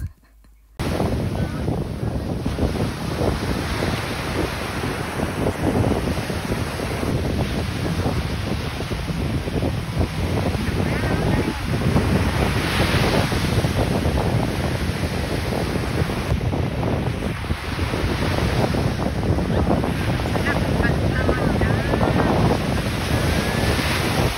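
Ocean surf and strong wind buffet the microphone continuously while surfing at a beach in La Union (Elyu), Philippines, a steady loud roar of breaking waves and gusts with no clear pauses.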